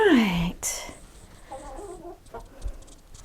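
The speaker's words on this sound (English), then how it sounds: "He's a good rooster." A rooster gives a few short clucks and squawks nearby, fairly quiet, with soft background noise.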